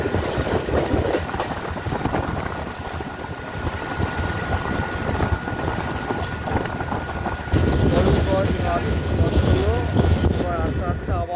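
A passenger train on the line from Krishnanagar City to Amghata Halt rounds a curved track with a loud, continuous rumble and rattle of carriages that grows heavier near the end, while a voice talks over it.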